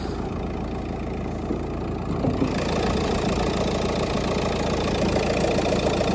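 A 2012 Renault Scenic engine idles steadily up close, a continuous low rumbling hum with a slight rise in level partway through.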